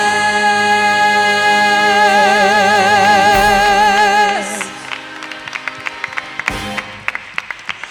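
Scattered applause breaks out in a church as sustained singing fades, with the claps sparse and uneven, growing sharper toward the end.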